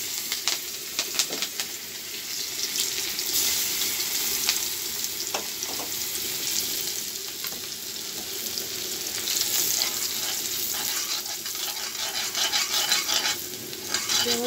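Green chili and ginger sizzle steadily in very hot oil while an Assamese traditional dish is cooked, a dense continuous crackle with occasional sharper pops, close and fairly loud throughout.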